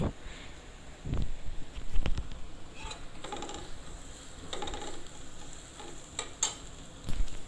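Broken rice pulao (khuder polao) being stirred in a pan over low sizzling, with irregular clinks and scrapes of a utensil against the pan, close and moderately loud, no talking.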